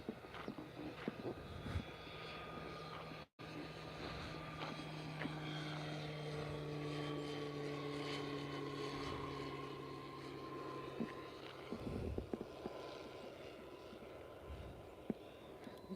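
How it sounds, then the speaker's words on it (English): A low-flying airplane passes overhead, its steady engine drone loud and sustained with a deep hum throughout, briefly cut out once near the start. "that plane is really, really, really, really low"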